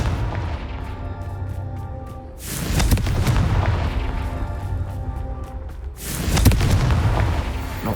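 Confringo blasting spells explode in Hogwarts Legacy as two heavy, booming blasts, each with a rumbling tail, separated by a short lull.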